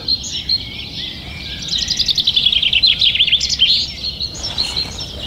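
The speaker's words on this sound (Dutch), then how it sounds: "Ja, mooi, vinkenslag." A common chaffinch sings its full rattling, descending song, the phrase repeated clearly at moderate distance in a spring outdoor setting, with other faint bird calls around it.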